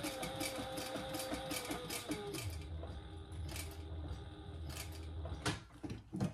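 A sewing machine slowly stitches a fabric wallet, its steady mechanical whir and rapid needle clatter running continuously and fairly close, with a few sharper knocks near the end.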